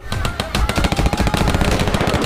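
Rapid machine-gun gunfire effects from the climax of a Bhojpuri action film, a dense, loud, continuous rattle of shots.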